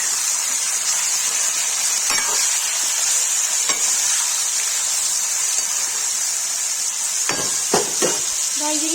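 Aloo gobi, potato and cauliflower with salt, stir-frying in a pan as a steady close sizzle, with a few sharp spoon scrapes and knocks near the end.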